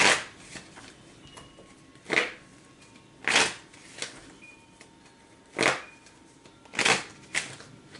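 Tarot cards being shuffled in bursts, with several sharp riffling sweeps spaced a second or so apart and quiet gaps between them, close and fairly clear with no talking.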